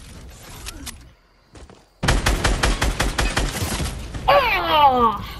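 Rapid bursts of gunfire in a video game ring out in a quick, evenly spaced string of loud shots, preceded by quieter game sounds and followed by a rising whoosh of effects.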